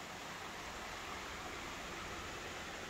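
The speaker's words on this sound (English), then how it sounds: "sound of the river here." River flowing beside Elkmont campground in the Great Smoky Mountains, a steady broadband rush of water heard close and constant with no pauses.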